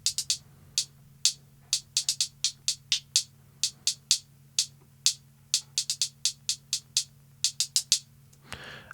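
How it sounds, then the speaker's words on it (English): Hand-played hi-hats in a trap beat built in Ableton Live tick crisply in an uneven, rolling pattern with quick doubled hits, heard alone over a faint low hum. "I added some hi-hats, and I actually went in and played these hi-hats."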